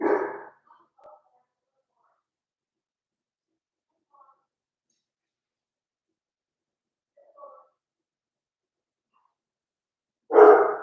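A house dog barks at something seen outside, with short loud bursts at the start and end and faint yips in between, fairly close and with no talk over it.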